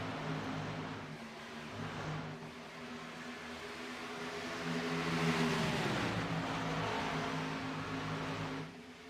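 Gen 6 stock cars racing at Atlanta, engine drone from the pack passing steadily at a distance, swelling slightly midway, with no talking.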